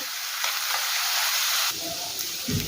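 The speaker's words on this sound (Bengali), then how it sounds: "লবণ দেওয়ার ফলে পেঁয়াজ যেমন খুব তাড়াতাড়ি নরম হয়ে যাবে" Onions crackle and sizzle steadily in oil in a pan, a dense continuous hiss with a brief shift partway through.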